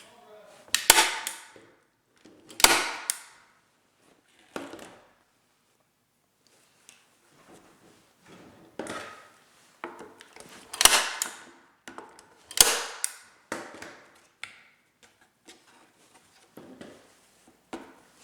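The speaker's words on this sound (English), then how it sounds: "Take your staple gun." A staple gun fires as a sign is stapled onto a patriotic deco mesh wreath, giving several sharp, close snaps at uneven intervals with quiet rustling between them.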